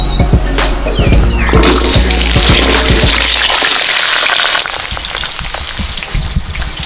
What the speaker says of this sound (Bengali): শুকনো লঙ্কা তেজপাতা তোরা আলুটা দিয়ে দিচ্ছি